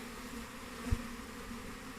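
A steady insect hum of many honeybees droning together at an open hive in May, continuous and fairly close, with a single soft low bump partway through.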